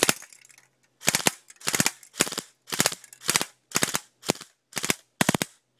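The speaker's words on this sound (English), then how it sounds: "It's shooting so fast that it's hopping the can around" Rapid bursts of fire from an ER25K gun shooting at a can, about eight sharp volleys in quick succession with short gaps between, loud and close, no talking.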